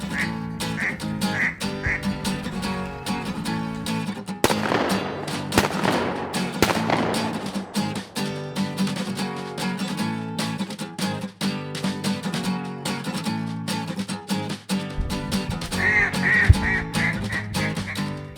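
Ducks quacking on flooded Arkansas timber at a duck-hunting spot at first light, with many overlapping quacks and calls layered over a steady busy backdrop and sharp bursts throughout.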